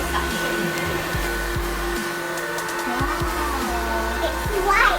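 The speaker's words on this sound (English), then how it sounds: "the typical vacuum is very loud." A KHIND cordless, lightweight vacuum cleaner runs with a steady motor drone all the way through, close by, while a voice talks faintly in the background.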